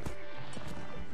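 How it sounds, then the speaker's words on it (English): Horses run in the Mount & Blade video game, giving rapid clip-clop hoofbeats close up, loud and continuous, with a faint whinny mixed in. "There's a lot of horses running around."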